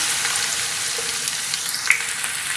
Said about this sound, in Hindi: इसको तेज़ आंच पे फ्राई करेंगे